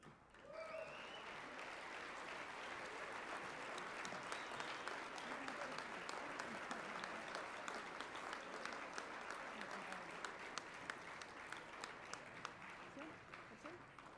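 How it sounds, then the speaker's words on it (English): Sustained applause from a large audience, steady and continuous clapping filling the whole stretch, with a faint murmur of voices underneath. "And a round of applause for all of them, please."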